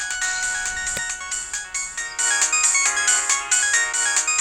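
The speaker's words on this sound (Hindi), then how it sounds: "वही फोन कर रही है उठा यार। लेना।" A mobile phone ringtone sounds for an incoming call in a Hindi romantic action film, a loud, steady electronic melody of repeating bright tones that runs throughout without any talking.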